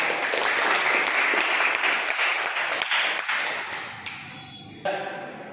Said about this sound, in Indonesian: Ya, kita berikan aplaus semuanya.